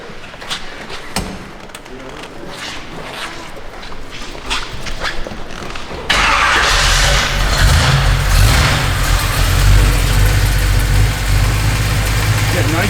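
A 1966 Chevrolet Nova SS with a 350 V8, cam and 3-speed automatic sits idling loudly and steadily up close, starting abruptly partway through after a quieter stretch with a dog barking.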